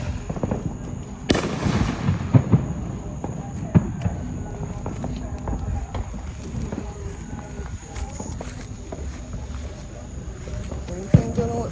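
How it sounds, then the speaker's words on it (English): Firecrackers and fireworks go off in a noisy outdoor scene, with a sharp loud burst early followed by scattered pops and crackles under continuous rumble and background voices. "Firecracker."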